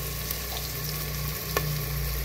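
Minced beef or mutton keema with onions frying in a pan, a steady low sizzle running throughout at moderate level, with a brief scrape or stir partway through.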